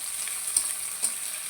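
Onions frying in a pan give a steady soft sizzle, broken by two quick stirring clicks in a short stretch.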